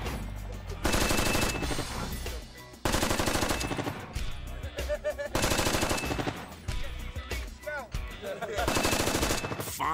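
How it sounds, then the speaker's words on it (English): A 30 cal minigun fires blank rounds in long, extremely loud continuous bursts, four roaring strings separated by short gaps, with voices talking faintly in between. "especially using something like the chain gun or the minigun, call it what you want, it's a 30 cal weapon"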